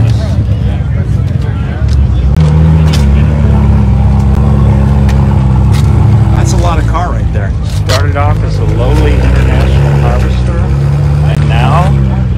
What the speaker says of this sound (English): This is a diesel wonderfulness.